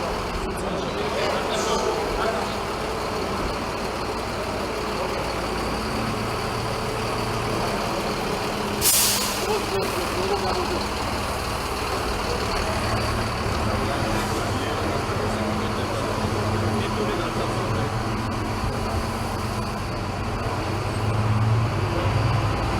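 Transco bus assembled in DR Congo, riding with passengers aboard: constant loud engine and road rumble from inside the vehicle, with one sharp hiss of air brakes partway through and voices at times.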